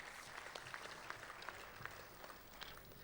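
Faint, distant applause from the audience at a Republic Day kavi sammelan and mushaira in Dubai, scattered claps over a low hall murmur.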